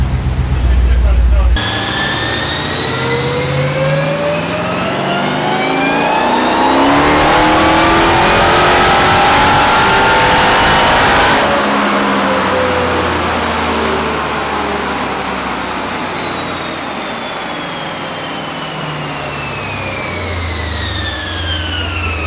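A 900 WHP Jeep Trackhawk with a ported Demon supercharger is run hard on a dyno, its loud engine and blower whine rising through a long pull and then winding down as it decelerates, with speech mixed in.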